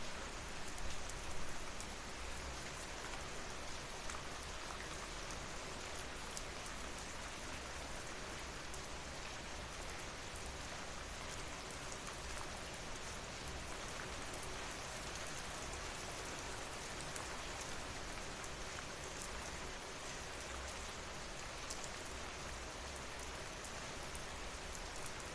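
Steady rain pouring in a village beside a window, a dense even hiss of drops on surfaces that holds constant throughout, with no voices.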